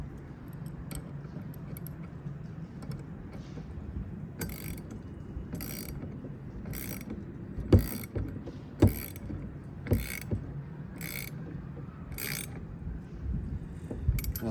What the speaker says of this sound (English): So let's see if we can tighten these up.